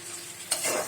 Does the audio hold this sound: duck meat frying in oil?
yes